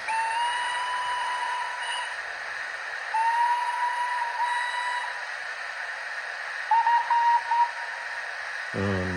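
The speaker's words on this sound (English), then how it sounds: "on F3 you also got another set of 3 whistles" Steam whistles from a model train sound decoder ring out in a set of three sustained, loud tones with short gaps, followed by a brief thump at the end.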